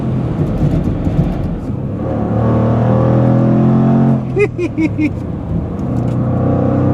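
A 2024 Jaguar F-Pace SVR pulls hard through its 8-speed gearbox, a loud close engine roar climbing in pitch with quick upshifts around the middle, steady and droning.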